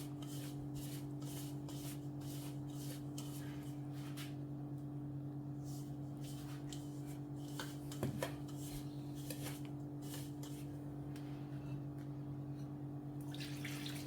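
Dough for Moroccan harcha being mixed by hand, with soft rhythmic rubbing and shuffling strokes over a steady background hum, quiet and close, with no talk.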